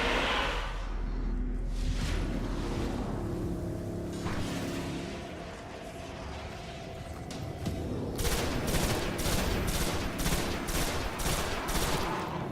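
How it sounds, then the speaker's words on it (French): Gunfire in the video game Destiny, scattered shots at first, then a rapid, evenly spaced automatic burst that grows louder toward the end, with a whooshing effect mixed in. "On a l'impression qu'il y a quelque chose au plafond là qui nous tire dessus."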